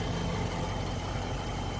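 A Dodge Charger R/T idles at steady low rumble, continuous and close with no change in rhythm, an engine that has developed a fault while running with the air conditioning on.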